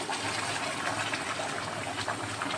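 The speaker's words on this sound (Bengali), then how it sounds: "গরম জল দিয়ে দিয়েছি" Hot water pours steadily into a village-style desi chicken curry made with ground spice paste, a continuous close gushing splash with no talk over it.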